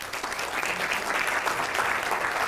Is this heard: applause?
yes